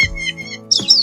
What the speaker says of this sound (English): Weaver bird.